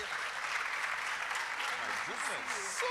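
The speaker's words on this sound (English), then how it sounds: "Shall we welcome them with a round of applause?" Sustained applause from an audience welcomes a panel of women leaders at an opening session, steady and full throughout, with a voice faintly audible in the background.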